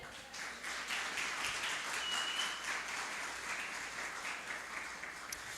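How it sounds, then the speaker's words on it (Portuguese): A church congregation applauds, a broad, continuous roar of many hands clapping at moderate volume, filling the space evenly for several seconds with little speech. "Forte aplauso ao Senhor."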